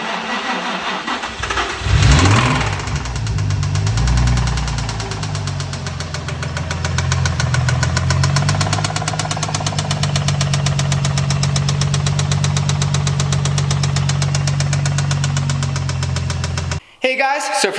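A swapped VQ35DE engine in a Nissan G35 cranks, catches and settles into a loud, close, steady idle with a rhythmic knocking pulse, cutting off abruptly near the end.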